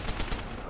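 Rapid gunfire from a Call of Duty: World at War battle, a dense continuous burst of overlapping shots filling the short stretch at steady loudness, with no clear gaps between reports.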